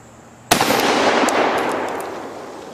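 A Benelli M2 12 gauge shotgun fires a single loud, sharp blast at a cinder block outdoors, followed by a long fading echo.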